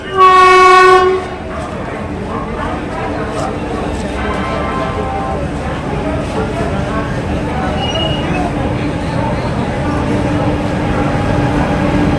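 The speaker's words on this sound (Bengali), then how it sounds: "তিন নম্বরে গাড়ি আসবে দশটা বত্রিশ চালবে" A Mathura–Delhi local train pulls into a hot, crowded station platform, opening with a loud horn blast and then a long steady rumble of wheels and carriages, with voices and platform chatter underneath.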